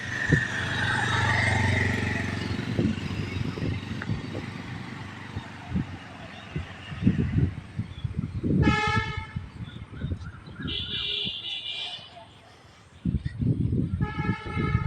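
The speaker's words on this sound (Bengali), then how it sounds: "অটো, ভ্যান, অটো সব গাড়ি চলাচল করে, মোটর সাইকেল।" Busy road traffic of autos, vans and motorcycles rumbling past, engines swelling and fading, with a pair of loud horn honks and short toots cutting through midway before the traffic noise resumes.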